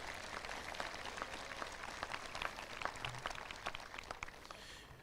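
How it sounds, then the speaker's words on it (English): Faint, distant audience applause at a 2021 high school graduation ceremony, a steady patter of many hands clapping in a large hall with no speech over it. "please give them a round of applause"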